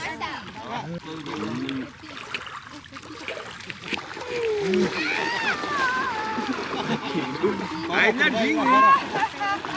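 Splashing as someone wades into the clear blue sea at Pink Beach in Labuan Bajo, close and continuous, with voices talking and exclaiming over the water sounds.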